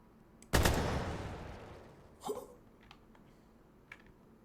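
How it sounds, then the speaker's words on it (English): Weapons fire in a first-person shooter game: one sharp, loud blast with a long fading tail, a smaller bang about two seconds later, then a few faint clicks, with no talk. "Shooting directly at the bomb in the hand of an enemy makes it instantly explode."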